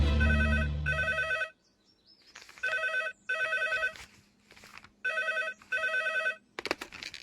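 A telephone bell rings in a Telugu film climax scene: three clear double rings separated by short pauses, fairly close, with a brief low sound before the first ring and a short clatter at the end.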